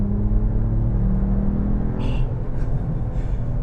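A 604 hp 2025 Mercedes-AMG E53 plug-in hybrid revving out toward 6,500 RPM, heard from inside as a loud, deep engine rumble with a rising harmonic drone, then a few brief high-pitched whirs.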